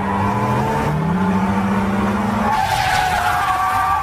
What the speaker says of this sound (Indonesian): ia pun langsung tancap gas mengejar mereka